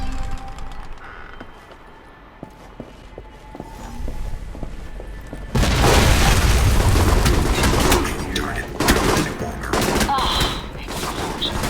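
Loud bursts of gunfire and explosions in the video game Alpha Protocol erupt after a quieter stretch of scattered shots, continuing densely as battle noise fills the scene.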